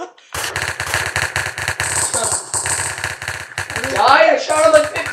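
Rapid automatic gunfire in a cops-and-criminals video game, loud bursts of repeated shots in quick succession, with an excited voice shouting over the later part.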